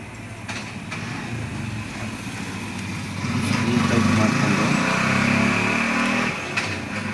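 A Juki sewing machine runs with its oil pump circulating, a steady mechanical hum that swells louder midway and then drops back, with brief clicks near the start and end.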